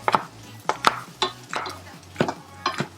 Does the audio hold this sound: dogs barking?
no